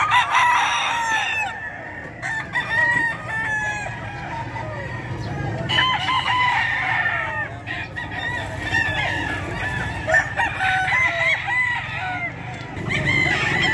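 Several roosters crow repeatedly at a poultry market, overlapping one another, with clucking and a busy background of birds nearby.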